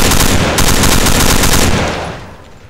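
Rapid BAR automatic rifle fire in a video game, a loud, sustained burst lasting about two seconds, with echoing tail fading afterward.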